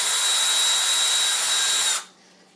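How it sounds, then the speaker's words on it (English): Power drill boring a hole in a 3-piece Stormtrooper helmet, a loud steady whine held for about two seconds before cutting off abruptly, leaving faint room noise. "So basically I'm going to drill a hole."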